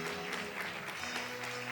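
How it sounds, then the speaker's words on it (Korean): Applause at a youth UCC contest award ceremony, a faint, steady patter of many hands clapping with a few sharper claps standing out, heard on its own. "큰 박수 부탁드립니다"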